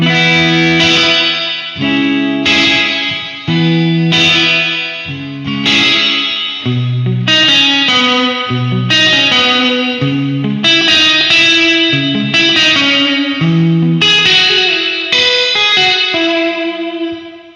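Electric guitar chords ring out one after another through a Boss RV-5 digital reverb pedal, washed in spacious reverb that lets each strum linger and blend into the next, loud and continuous.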